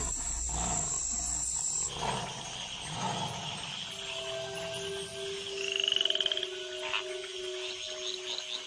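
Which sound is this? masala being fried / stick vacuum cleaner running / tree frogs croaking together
tree frogs croaking together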